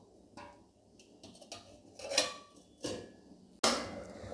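A lid is set on a cooking pot of duck meat curry with small garlic and chui, a series of light metallic clatters building to one sharp, close clank.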